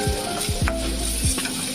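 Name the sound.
frying ginger paste and cumin powder, stirring in pan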